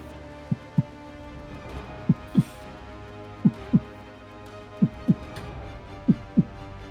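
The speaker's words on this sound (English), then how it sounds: "the sound of a heartbeat's getting louder and louder" A heartbeat sound effect thumps in paired lub-dub beats, five pairs at a steady slow pace over a low background hum, each beat sharp and distinct.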